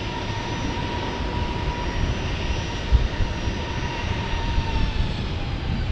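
An airliner in Tide Pod livery at San Diego airport gives a continuous engine roar with a faint steady whine, fairly loud and even, with one brief thump near the middle.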